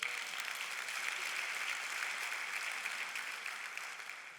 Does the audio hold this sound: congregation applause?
yes